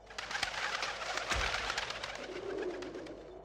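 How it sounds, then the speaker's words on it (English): In the PlayStation game Legend of Mulan, pigeons coo and flutter nearby in a soft, murmuring bird chorus with a brief low thump partway through. "Hey, stupid birds! Get out of here! Damn pigeons,"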